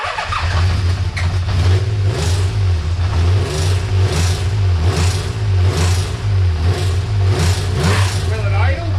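A Honda CBX1000 motorcycle engine runs roughly and is revved repeatedly, with about eight loud, evenly spaced blips over a throbbing low idle. Someone talks nearby.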